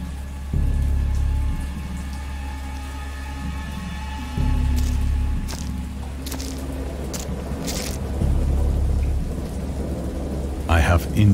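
Rain and rolling thunder from a stormy scene in an interactive horror game, with heavy low rumbles swelling in three long waves over a steady hiss of rainfall and occasional sharp cracks near the end.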